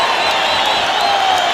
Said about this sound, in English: hear the approval by the tremendous crowd in attendance here tonight at the Maple Leaf Gardens as Andre the Giant comes into the ring